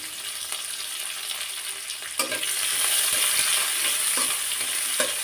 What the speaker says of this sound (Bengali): দুই ধরনের কাঁচামরিচ আর পেঁয়াজটা একটু ভাজি ভাজি করে নিতে হবে